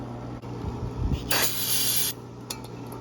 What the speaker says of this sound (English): I'm going to spray this out with compressed air.